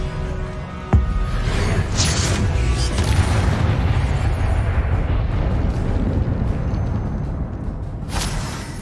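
Spell blast in the Hogwarts Legacy video game, a sharp impact near one second followed by a loud, dense whooshing boom that sustains and fades toward the end.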